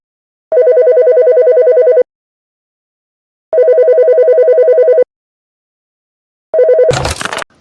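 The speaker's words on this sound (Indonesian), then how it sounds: "Siang hari, suara telepon toko memecah kesibukan." A shop telephone in an animation rings in three evenly spaced electronic bursts, each about a second and a half long and loud and clear. The third burst is cut short by a sharp crash of noise.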